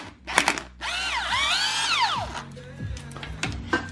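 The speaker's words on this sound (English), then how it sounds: "So right now we're taking the bottom block bolts off." A ratchet removes the bottom block bolts from a K24 engine during a teardown. Close, loud, whirring spins rise and fall in pitch, with sharp clicks and clanks of metal around them.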